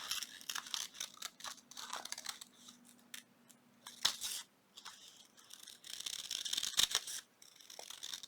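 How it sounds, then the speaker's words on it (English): Scissors snip steadily through a paper napkin while fussy cutting butterfly shapes for a junk journal, a close, quiet run of short crisp cuts and rustles with brief pauses between bursts. "we're right here on screen and we're going to fussy cut"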